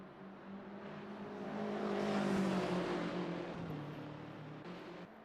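GT3 race cars roar around the Barcelona circuit in a sim racing game, engine noise swelling as a car draws near and passes, then easing away, continuous and fairly loud.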